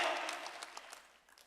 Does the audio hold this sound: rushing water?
no